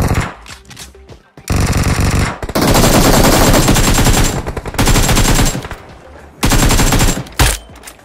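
Automatic gunfire from a BGMI PUBG Mobile battle royale match rattles in loud, dense sustained bursts with short gaps, alongside single shots, near and dominant.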